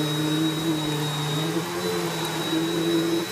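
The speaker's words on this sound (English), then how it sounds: "today so we're going to run my BIssell Power Force from 2015" A 2015 Bissell Power Force upright vacuum cleaner with a full bag runs steadily, giving a continuous close motor drone with a high whine and no other sounds.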